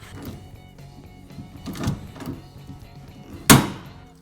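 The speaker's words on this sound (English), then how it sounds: "let's try to get this riveted on" A swivel head rivet tool sets a rivet on a jon boat storage deck: soft squeezing clicks and thuds as the tool is worked, ending in one sharp loud snap as the rivet pops.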